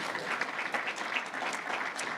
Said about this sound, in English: let's have a round of applause for them and their families.